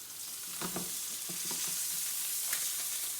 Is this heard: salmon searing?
yes